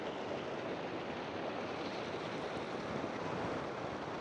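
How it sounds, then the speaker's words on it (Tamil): Meltwater from melting snow and ice flowing at about 4,130 m on the Annapurna trek in Nepal, a steady broadband rushing wash, fairly close and constant, with no voices. "பனி அப்படியே உருகி தண்ணியாக போகுது"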